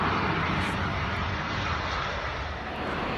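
Steady, loud roar of jet airliners at London Heathrow airport, a broad continuous wash of engine noise with no break across the whole moment.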